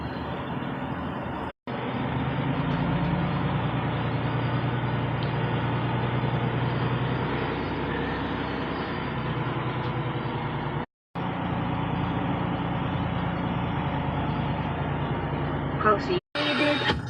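A semi truck pulls out of a truck stop in Louisiana, its engine a steady low rumble with road noise throughout, broken by brief cuts, while some voices or background sound carry over it.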